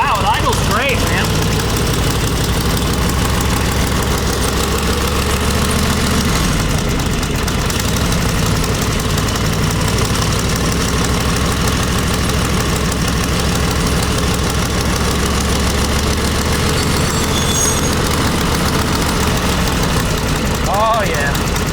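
A 1945 Harley-Davidson FL motorcycle engine idles loud and close for over twenty seconds, a steady low rumble that hardly changes throughout.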